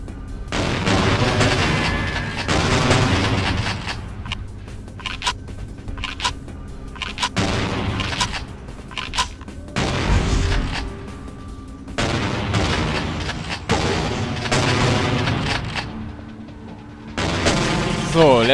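Gunfire in the vampire role-playing game Vampire: The Masquerade - Bloodlines, with heavy shots and booming bursts repeating through a loud, dense in-game battle mix, while someone talks over it.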